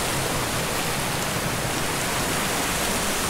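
A waterfall in the Elan Valley roars close by, a loud continuous broadband rush of falling water with no break and no voices.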